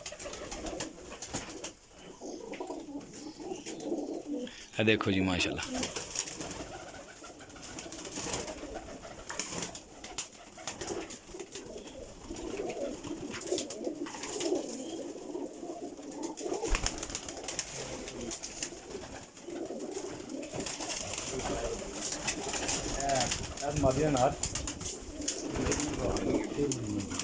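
Golden pigeons in a high-flying pigeon breeding setup of many pairs coo steadily and fairly close, a continuous low murmur that runs under someone talking throughout.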